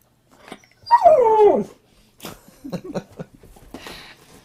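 A husky gives a drawn-out, falling whimper close by, followed by a series of shorter whines and yips, with soft rustling in between.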